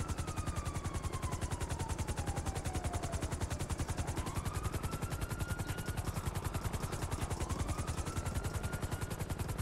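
Helicopter in the video game GTA, a steady, loud rotor chop pulsing rapidly throughout with a whining turbine tone gliding up and down, no voices.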